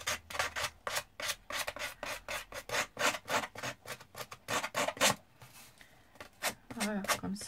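Card edges being rubbed and scraped with scissors to give them an aged look, a rapid series of dry rasping strokes close by, steady and repeated, with a short pause and some faint voice near the end.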